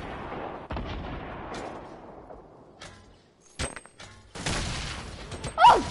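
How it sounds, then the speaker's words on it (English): Booming explosions and bursts of gunfire in Fortnite, irregular and fairly loud, with a sharp blast near the end. "Can you hear the explosions?"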